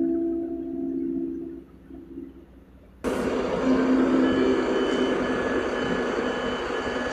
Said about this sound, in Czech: Nepřibližujte se ke koleji, na kterou jíždí vlak